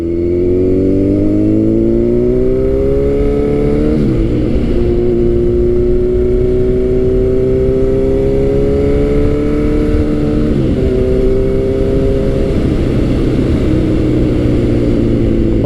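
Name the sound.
Kawasaki Z900 motorcycle engine revving with loud exhaust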